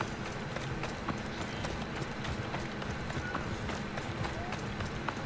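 Horse hooves clip-clopping at a run in Assassin's Creed Odyssey, a steady rapid rhythm under continuous game ambience, with someone talking over it.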